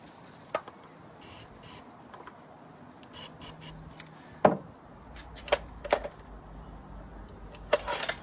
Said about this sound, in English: I'm going to just push the choke in now and spray some more of this.